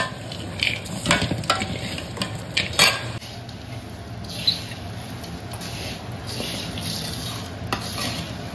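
Peanuts roasting in a pan while being stirred for bhelpuri, with steady scraping and clinking of a utensil against the pan over a continuous dry rustle and light sizzle, close and fairly loud with no talking.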